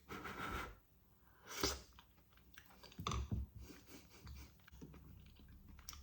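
Someone chews sticky BBQ chickpeas, soft close mouth crunches and squelches coming in irregular bursts, quiet and alone.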